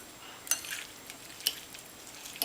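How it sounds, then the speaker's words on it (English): Chunky guacamole gets a quick stir in a bowl, with three soft, wet scraping strokes spaced about a second apart over a faint background hiss. "just give it a stir. And you've got kind of a chunky guacamole."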